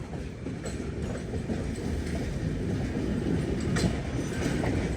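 Durg to Visakhapatnam Express rolls along the track, a steady rumbling wheel clatter with a few faint clicks, continuous and moderately loud throughout.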